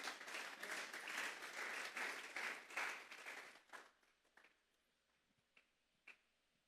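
A church congregation gives strong applause for the Lord, dense sustained clapping for several seconds that dies away to a few last scattered claps.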